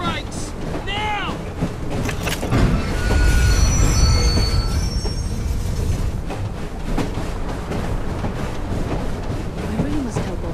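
A train in Assassin's Creed Syndicate squeals as its brakes engage, high metallic screeches rising over loud rumbling wheels and clatter of rail cars, sustained and close.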